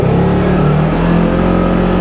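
Polaris General XP 1000 Trailhead Edition UTV (2022) accelerating in high gear, its engine droning steadily and close with a rising mechanical note, no talking over it.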